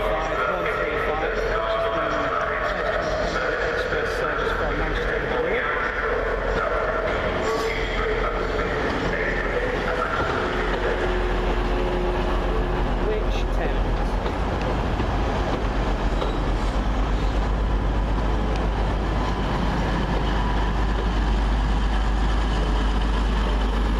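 Class 185 unit 185135 arriving to terminate at Manchester Piccadilly, its steady rumble and rolling wheel noise with a faint squeal carrying throughout, with people talking over it.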